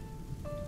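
Steady rain falls in the medieval game A Plague Tale: Innocence, a soft continuous patter with faint tonal hums from the game's ambience, no voices.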